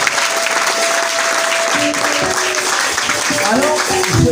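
A church congregation applauds to acclaim Jesus in a loud, sustained burst of clapping, with voices singing and calling out over the dense applause throughout.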